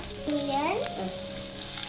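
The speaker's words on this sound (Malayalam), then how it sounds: "ഓയിൽ ചൂടായി വരുമ്പോൾ നമുക്ക് വെളുത്തുള്ളി ചെറുതായിട്ട് അരിഞ്ഞ് ചേർക്കാം" Chopped garlic fries in hot oil in a pan with a steady, close sizzle and a brief tonal squeak partway through.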